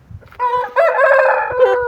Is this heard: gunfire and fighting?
no